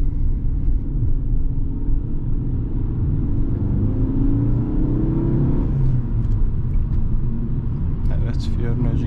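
Fiat Egea 1.4 Easy Plus cabin engine drone while driving in second gear, a steady low rumble and whir from inside the car, with someone talking over it.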